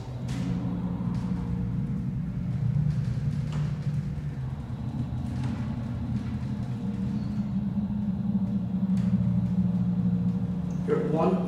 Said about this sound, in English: Listen to this motor,